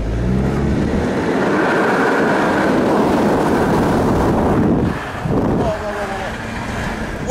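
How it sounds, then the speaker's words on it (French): A modified BMW cabriolet's engine pulls hard in sport mode, loud and close with heavy wind rush, a rising engine tone early on and again after a brief dip near the end. "c'est un moteur modifié, vous avez très bien entendu"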